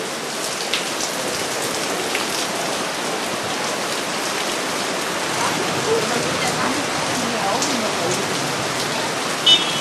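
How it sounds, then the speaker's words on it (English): Steady summer rain pours down at night on Athinas Street near Monastiraki, Athens, a constant dense hiss of drops on hard surfaces with no pauses. "And it is raining."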